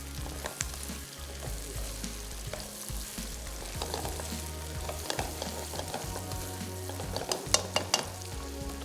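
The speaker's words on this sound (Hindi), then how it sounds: "यहाँ पे करेंगे इसको हम अच्छे से फ्राई।" Sliced ridge gourd fries in oil in a pan with a steady, dense sizzle and crackle, occasional stirring scrapes rising above the constant hiss, close and with no talking.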